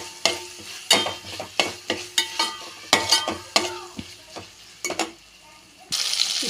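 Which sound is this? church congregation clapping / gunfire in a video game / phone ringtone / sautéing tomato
sautéing tomato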